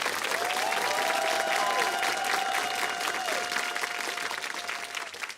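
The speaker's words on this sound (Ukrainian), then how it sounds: "Тому давайте ці оплески дамо їм." Studio audience applause in honour of soldiers, a sustained, full round of clapping from many people with a faint tonal line running beneath, tapering slightly toward the end.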